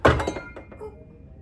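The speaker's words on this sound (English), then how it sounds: "The glass hits the cabinet as you shut it." A glass stored inside a hotel room cabinet at a Melbourne airport hotel knocks against the cabinet as the door shuts, a sharp thunk with a brief glassy clink fading quickly.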